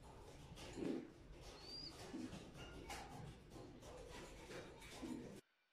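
Pigeons coo softly in the background amid a faint, busy ambience, with a few low murmuring calls scattered across the recording.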